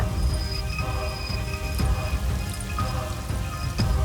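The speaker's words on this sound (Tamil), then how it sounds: "ஆகாசத்திலிருந்து கொட்டுற மழை" Heavy rain pours down steadily as a sound effect for a Tamil storytelling piece, a dense, continuous patter of drops on surfaces with occasional louder splashes, moderate in level and heard alone.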